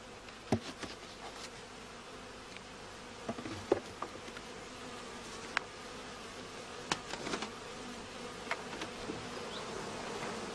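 Honeybee colony buzzing steadily during a hive inspection, a dense, even hum close by, broken by scattered light clicks and knocks.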